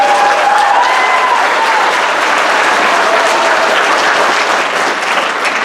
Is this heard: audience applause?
yes